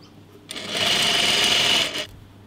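A sewing machine stitches dress fabric in one steady run of about a second and a half, rising to a close, even whir and then stopping. No one speaks.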